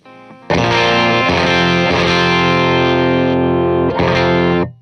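An electric guitar played through a Supro-style preamp boost pedal rings out with loud, crunchy, distorted chords. The notes are struck a few times and left to sustain between strikes, with no voices.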